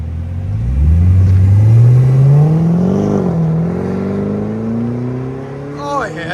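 A Cadillac CTS-V with a 6.2L V8 and Carven muffler pulls away, its engine note rising loudly through the revs then easing as it moves off, with a voice speaking briefly at the end.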